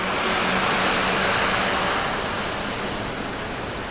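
A powerful waterfall pours in a broad, dense roar of rushing water, loud and close, steady throughout and easing slightly toward the end, with no talking.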